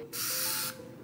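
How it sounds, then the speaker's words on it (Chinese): A single short burst of mist hisses from a silver or white body spray bottle, close and clear, lasting about half a second in an otherwise quiet room. "你看它喷出来是这种水状的，看到没，就奶油质地的"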